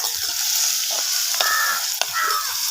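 Curry leaves hit hot oil while fish curry is being made, giving a loud, hissing crackle close up, with a couple of sharp stirring clacks and bursts of spitting.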